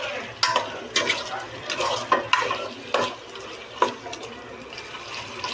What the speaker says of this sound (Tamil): நல்லா பெரட்டிட்டேன் நான்.